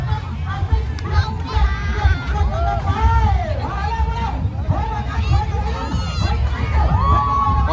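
A crowd at a boat race in Mueang Nong, cheering and shouting with children's voices and loud overlapping chatter, steady and close throughout.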